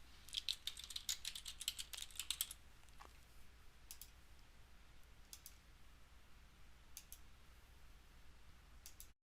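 Keys on a computer keyboard are tapped in quick bursts while search words are entered, faint and close, with a clustered run of clicks at the start and a few isolated taps afterward against a quiet room.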